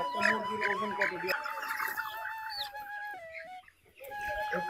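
Chickens cluck and murmur throughout a poultry farm shed in Bogura, a dense continuous flock chatter at moderate distance, with people talking over it.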